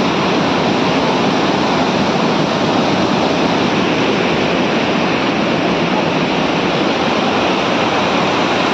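Loud, constant rushing water of the Napne waterfall roars without a break, a dense broadband wash close by.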